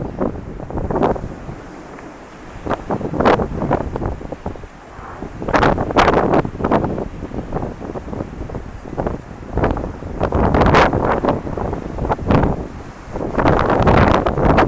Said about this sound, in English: that's the wind on the water